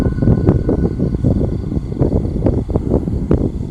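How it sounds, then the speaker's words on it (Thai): Wind blows outdoors at a shrine on a cool day, buffeting the microphone with uneven low rumbling gusts that never let up. "แต่มีลมอยู่นะครับ"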